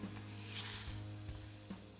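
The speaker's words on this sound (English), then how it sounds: "The water begins to boil." Kanten agar mixture in a pot gives off a soft, steady bubbling hiss as it comes to the boil, faint and close, with no talking.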